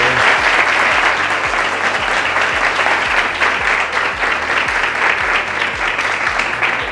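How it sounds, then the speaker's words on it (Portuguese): A round of applause from the audience at a cooking class show, steady dense clapping that lasts throughout with some crowd noise and no talk. "vamos bater uma salva de palmas aí"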